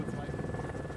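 Helicopter hovering beside a tower on the Elbe island of Pagensand as a crew mounts a radar antenna, with a steady broadband rotor roar and low chop filling the clip under a voice.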